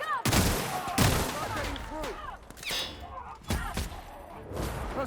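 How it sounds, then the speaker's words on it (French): Small gun fired repeatedly in The Outer Worlds, a video game, sharp shots popping out at irregular intervals over game noise, with a voice talking over the action. "Petit flingue."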